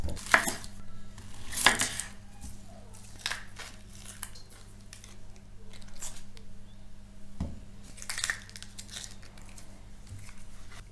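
Onions are chopped with a knife on a board for minced meat patties, a series of irregular close crisp thuds and cuts with short pauses, set against a low steady kitchen hum.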